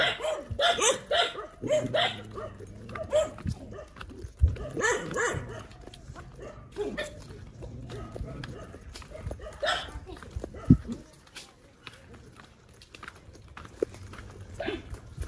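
Dogs bark in a village of tin-roofed houses, several sharp barks scattered through the clip amid outdoor background noise, with a voice talking at times.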